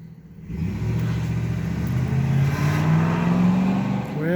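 A 2007 Chevy Silverado pickup truck drives up, its engine rising from quiet into a steady, growing rumble as it approaches and accelerates nearby.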